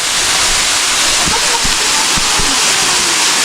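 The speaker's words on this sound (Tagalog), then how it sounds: "Oh, tignan niyo yung falls." Steady, loud broadband roar of a waterfall, a continuous rush of falling water filling the whole clip without letting up.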